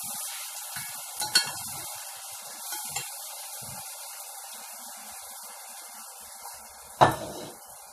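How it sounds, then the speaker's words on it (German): Minced vegetarian filling sizzles steadily in a hot pan, with a few clinks and scrapes of stirring and one louder scrape near the end. "Dann braten wir das mal an."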